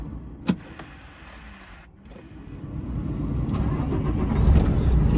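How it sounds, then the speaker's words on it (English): A truck engine is started from inside the cab: a short click, then the starter catches and the engine rises to a steady, building idle rumble heard close up. "I'm going to start my engine, and I'm going to watch for my oil pressure to rise within the first 5 seconds."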